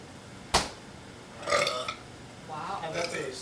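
A sharp, loud burp from a person after eating Thai bird chile peppers, one short blast near the start, followed by groaning voices and talk.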